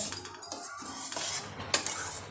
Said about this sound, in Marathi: असं हलवतच राहायचं, नाही कढईला चिटकेल